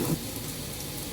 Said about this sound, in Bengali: এই বৃষ্টি হইতেছে বাইরে, রাস্তাঘাট অবস্থা পানি ভইরা গেছে